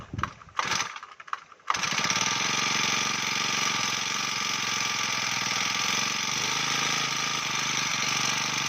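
A small engine left sitting for several days sputters through a few short cranks, then catches and settles into a loud, steady idle that continues to the end.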